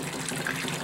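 Water splashed onto a shaker table mat during a gold concentrate washing test, a brief close gushing wash of water with no talk.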